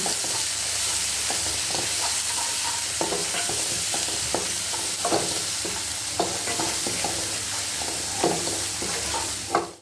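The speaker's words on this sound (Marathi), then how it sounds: "आता हे आपण हे तयार केलेलं वाटण यात टाकू मस्त परतून घेऊ" Ground spice paste (vatan) fries in oil for a kaleji petha dish, a constant sizzle under regular scraping strokes of a spatula against the pan, close and loud.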